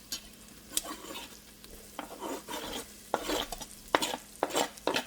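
Carrots going into a pan of frying homemade bolognese sauce, with a soft steady sizzle under repeated scraping stirs and clinks of a utensil against the pot, close and fairly quiet.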